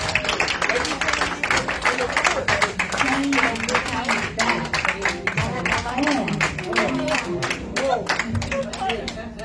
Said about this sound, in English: Give our soldier another round of applause.